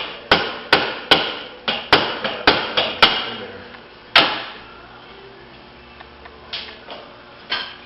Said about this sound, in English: the proper way to do it is to tap the bolt back through